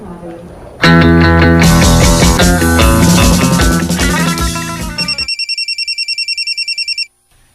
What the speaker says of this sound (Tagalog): imong cellphone bagting